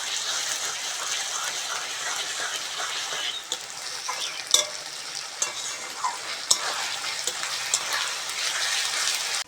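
Ginger-garlic paste frying with browned onions in a pan for chicken kosha, a continuous close sizzle broken by a few sharp spatula clacks and stirring scrapes, faint voice in the background.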